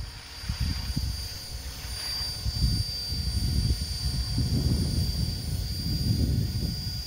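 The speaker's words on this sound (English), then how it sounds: "Here is the helicopter at a distance." A helicopter flies at a distance, a low, pulsing rotor rumble rising and falling in uneven waves beneath a faint steady high hum, with no speech.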